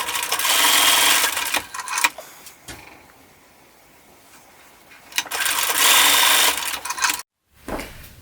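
A sewing machine tacks the seam allowances on baby leggings made from stretch fabric or an adult T-shirt. It runs in two loud, steady bursts separated by a quiet pause, with a brief clatter near the end.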